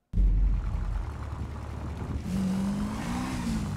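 Motorbike engine in GTA 5 on a narrow ramp, a loud steady engine drone that starts abruptly and shifts to a rising, slightly wavering tone partway through, with no talking.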